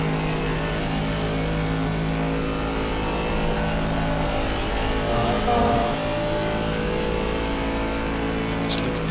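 An Aston Martin and a Ferrari GT3 race car in the Assetto Corsa Competizione sim racing game at Spa drone steadily with sustained engine tone, pitch shifting slightly as they run close together, continuous and loud throughout.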